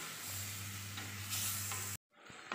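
Salted fish curry masala for a Kerala-style coconut milk curry sautés in a pan with a dense, close hiss and soft stirring scrapes, then cuts off abruptly near the end before a faint sizzle returns.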